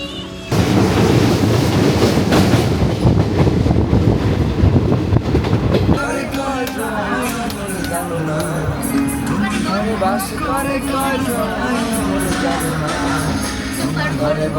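The Kanchanjangha Express rolls along the rails with a continuous low rumble and rhythmic clatter, loud at first and then carrying on beneath voices and singing inside the carriage.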